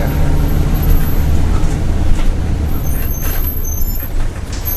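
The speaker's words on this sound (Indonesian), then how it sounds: "Tak lama bis pun berhenti," A bus rumbles loudly up close, its heavy engine and cabin noise steady throughout, with hissy bursts from the air brakes toward the end as it comes to a stop.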